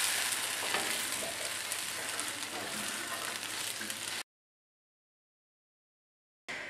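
Caramelized onions, tomatoes and scrambled eggs being stirred in a hot pan, giving a soft continuous sizzle with light scraping for about four seconds, then silence before a brief return of the sizzle.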